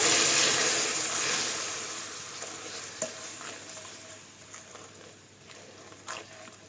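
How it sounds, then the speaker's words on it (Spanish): Hot caramel for a flan hisses loudly as two spoonfuls of water go in off the heat, the sizzle strong at first and fading over several seconds, with a few light clinks. "con el fuego apagado y mucho cuidado vamos a echarle 2 cucharadas de agua. Fuego apagado, salta un poquito"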